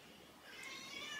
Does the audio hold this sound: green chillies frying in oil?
no